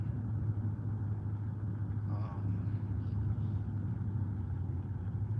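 A car engine rumbles steadily from inside the cabin while driving to a lawn and landscape job, a low continuous drone with no talking.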